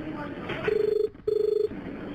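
Telephone ringing in a store, two electronic ring bursts with a short gap between them, heard over low background noise.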